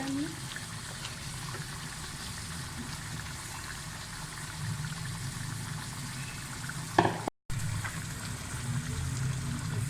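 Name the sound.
spiced yogurt paste frying in chicken karahi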